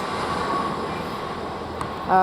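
A Class 800 train runs through Didcot Parkway station with a steady, loud rolling rumble of wheels on rails, ending with a rising whine.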